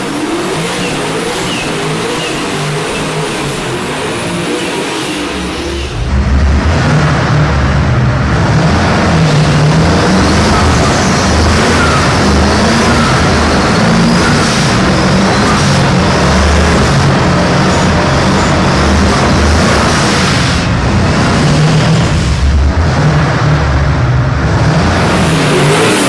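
Twin-turbo Camaro with a built motor doing a burnout, the engine holding loud sustained high revs that jump even harder after a few seconds and stay pinned, with no talk.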